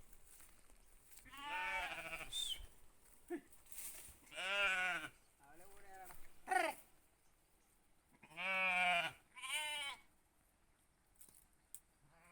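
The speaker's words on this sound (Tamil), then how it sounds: "இது என்ன ரகம் ஆடு?" Goats of an unnamed breed on a farm give several loud, wavering bleats in bursts with pauses between, close by, with people talking quietly in the background.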